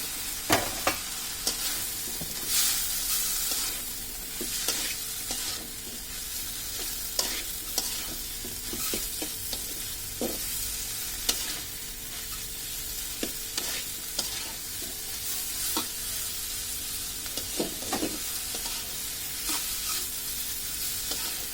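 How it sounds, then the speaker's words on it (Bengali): Cut pieces of roti frying in a spicy sauce for egg roti noodles, stirred with a steady sizzle and repeated scraping clicks of the spoon against the pan, close and continuous, with no voices. "এখন আমি যে রুটিগুলো কেটে রেখেছিলাম সেটা এর মধ্যে দিয়ে দিচ্ছি।"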